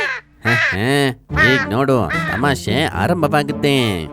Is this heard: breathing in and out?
no